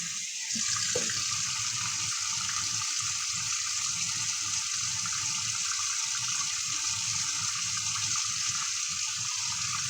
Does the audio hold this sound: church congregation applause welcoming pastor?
no